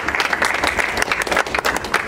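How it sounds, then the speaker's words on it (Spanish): Loud, dense applause from an audience at a press conference for a Beckett theatre production, continuous clapping with no voices. "les pediría un gran aplauso para ellos"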